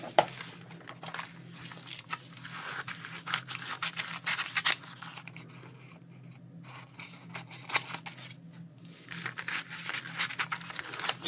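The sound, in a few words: scissors cutting paper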